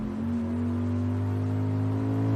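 A car engine hums with a steady low drone and faint whir as the car pulls away, close and continuous with no talk.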